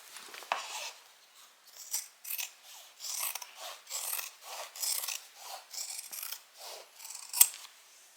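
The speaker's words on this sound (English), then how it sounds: "it is really helpful to cut back seam allowances around curves" Scissors snipping back seam allowances around curves on a sewn fabric bag, a series of quiet close crisp cuts in an irregular rhythm, about a dozen snips with no voices.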